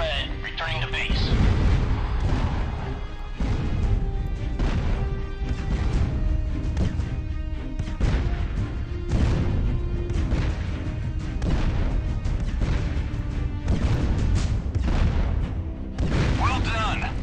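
Repeated vertex strike explosions from the video game Art of War 3, heavy booms and crashes landing in quick succession over a dense, continuous battle din, with a voice talking over them.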